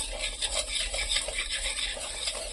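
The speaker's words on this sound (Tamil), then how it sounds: "கொஞ்சம் கொஞ்சமாக ஊற்றி ஒரு விஸ்க் வச்சு நல்லா கலந்து விட்டுக்கலாம்" Milk being whisked into wheat flour cake batter, a steady rhythmic scraping and clinking of the whisk against the bowl, close and continuous with no voices.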